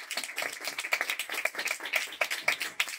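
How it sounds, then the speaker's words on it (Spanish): Dense, sustained applause from an audience at a tribute gathering in Huelva, many hands clapping together at a steady lively level with no voices over it. "Un fuerte aplauso a nuestra cámara también."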